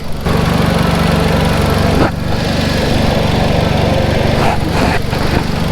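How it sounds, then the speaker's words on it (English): A turbocharged Hyundai Genesis Coupe engine with a Forge blow-off valve runs close and loud as a dense, steady roar. Brief dips in the sound mark throttle changes. "the blow off valve opens up, so the spring is good"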